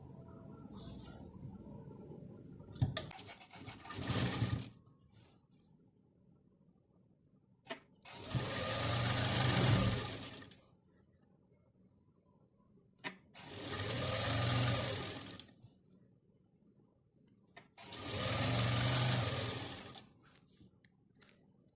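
Three separate bursts of steady sewing machine stitching along a folded kurti hem, each lasting a few seconds with quiet pauses and handling clicks between them, close and loud.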